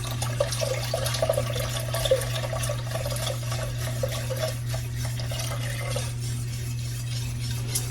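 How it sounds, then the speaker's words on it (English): Milk is poured into a pan while being stirred for a coconut cream pie filling, heard as a soft continuous liquid trickle with light spoon clinks over a steady low hum. "we can go ahead on and add the rest of the milk. And I'm just going to stir it as I add it in."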